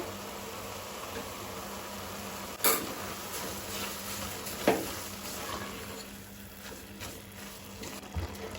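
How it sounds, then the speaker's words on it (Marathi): Grated carrots for gajar halwa are stir-fried in a pan: a continuous soft sizzle broken by a couple of sharper scrapes and knocks of the utensil against the pan, no talking. "गाजर घातल्यानंतर मातशें आमी परतून घेवया 1 मिनिट भर।"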